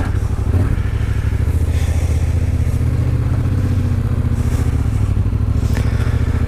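A 2016 Yamaha MT-07 motorcycle engine rumbles steadily and close while riding, with continuous low drone and some rattling wind noise throughout.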